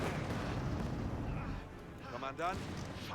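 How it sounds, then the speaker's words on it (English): Granatenwerfer mortar fire in the Company of Heroes 3 video game, a dense rumbling barrage of booms and blasts with a sharper burst near the end, heavy and continuous, while a voice talks over it. "oh right, it's the mortar. The Granatenwerfer."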